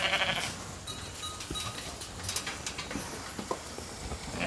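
A flock of sheep and goats bleats at feeding time on a dry, dusty farm, with scattered bleats and calls rising over a busy rustling background of hooves and movement at moderate distance.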